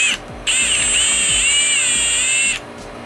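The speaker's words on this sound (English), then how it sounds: "moment of truth, 3/8 drill bit." A power drill with a 3/8 bit whines loudly and steadily for about two seconds, boring into soft frag rock, its pitch wavering slightly, with brief pauses at the start and end.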